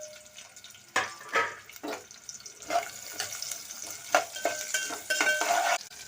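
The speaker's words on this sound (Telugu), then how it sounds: "2 టేబుల్ స్పూన్ల ఆయిల్ వేసుకుందాం. నేను కట్ చేసుకున్న ఉల్లిపాయలను పచ్చిమిర్చి వేసుకుంటున్నాను." Onions and green chilies go into two tablespoons of hot oil in a pan, giving a crackling sizzle with irregular bursts and scraping stirs, close and fairly loud with no talking.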